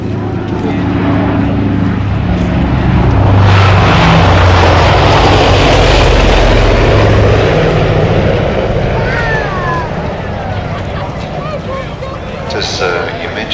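Lockheed Constellation piston engines droning during an air show flypast, a deep rumble that swells as the airliner passes and then fades, with a commentator talking over it.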